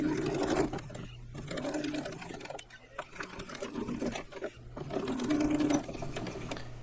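Sewing machine stitching polyester thread back and forth on tree stand straps, running in several close bursts of rapid mechanical stitching separated by short pauses.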